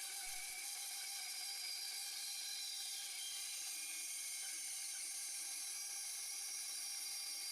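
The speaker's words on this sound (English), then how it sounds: "the first step is to cut the shape out on the bandsaw" A bandsaw hums steadily while cutting a wooden number 1 shape for a golf trophy, a continuous high whine with no pauses, close and even throughout.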